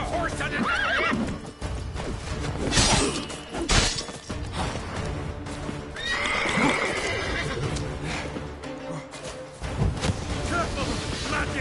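A horse neighs amid clip-clopping hooves in The Witcher III on PS5, mixed with loud combat crashes and thuds, while voices shout over the action.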